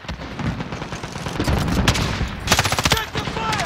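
Rapid gunfire in the Modern Warfare Ground War video game: repeated bursts of sharp shots and automatic fire, loud and close, clustering into fast volleys with brief gaps, with faint voices underneath.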